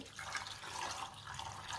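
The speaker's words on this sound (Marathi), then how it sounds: "आता मी ह्यामध्ये पाणी घालते" Water pours into a pressure cooker holding chickpeas, a faint, continuous splashing trickle that lasts for a couple of seconds with no voices.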